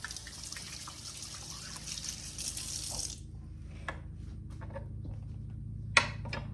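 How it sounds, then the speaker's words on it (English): Hands rinsed under a running kitchen tap while turkey and dressing are being made: a steady rush of water for about three seconds, then the flow cuts off, leaving faint drips and small clinks in a quiet room. "let me rinse my hands"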